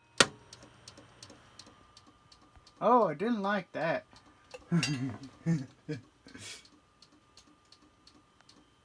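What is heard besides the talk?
Compaq desktop computer making clicking noise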